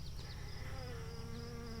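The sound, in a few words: honey bees around a caged queen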